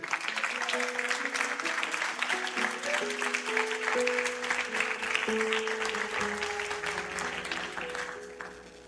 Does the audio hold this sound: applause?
yes